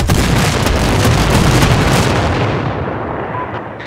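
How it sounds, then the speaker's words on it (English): A massive explosion in the video game Sniper Ghost Warrior 3, a loud, deep rumbling blast that roars heavily then slowly decays over several seconds, with no talk over it. "Damn, that was a big explosion."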